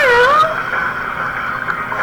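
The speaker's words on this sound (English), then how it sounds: "A cat." A single cat meows clearly and close up in the video game Tales of Vesperia, rising then falling and trailing off into a soft, drawn-out tail.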